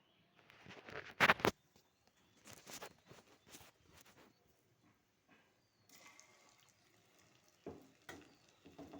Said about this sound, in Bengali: আমি পকোড়া ভেজে তোমাদের দেখাবো।